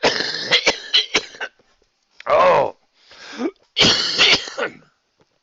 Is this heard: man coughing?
yes